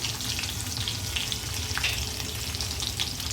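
Crushed garlic cloves, ten or twelve of them, dropped into hot oil with a pinch of asafoetida, giving a dense, steady close sizzle that fills the whole stretch without any voices.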